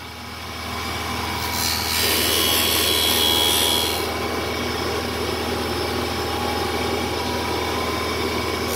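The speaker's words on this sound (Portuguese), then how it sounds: "Agora eu vou lixar uma pequena pra vocês verem." An electric sander works a small piece of wood for a 45-degree birdcage frame, making a loud, continuous grinding hum that rises into a brighter abrasive rasp for a couple of seconds before settling back, with no talking.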